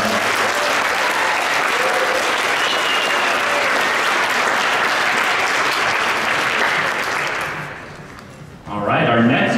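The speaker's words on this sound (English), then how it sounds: "Let's give them a round of applause as well" A crowd at a youth science fair awards ceremony claps steadily for the junior finalists, a dense loud wash that fades near the end before a speaker's voice returns.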